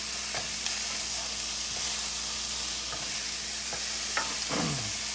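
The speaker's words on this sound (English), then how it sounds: "we're gonna toss that so everything is sauteed down nicely" Vegan taco filling sautés in a non-stick pan with very little oil, giving a steady bright hiss of frying broken by a few soft tossing and stirring scrapes.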